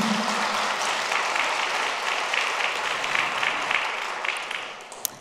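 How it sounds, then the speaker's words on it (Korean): A church congregation applauds students who are the first in their families to reach university, a broad, steady round of clapping that holds fairly loud before thinning out and fading near the end. "박수해 주세요."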